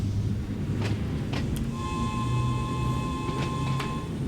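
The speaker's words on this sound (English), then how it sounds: "Yeah, the whistle actually sounds pretty good." A steady, sustained train whistle tone from the Island Line in the Train Sim World 2 game sounds over a loud continuous rumble of the running train, with a few brief clicks and no talking.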